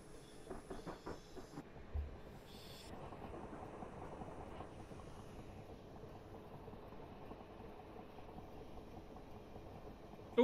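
Train running in Train Simulator on the Hampton Court to London Waterloo via Vauxhall route, a steady low rumble and hiss with a few rhythmic clicks early on, fairly quiet and continuous, no talk.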